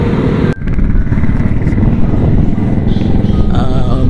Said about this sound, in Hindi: बाइक पर चलते हैं और इस गली के इख्तिताम तक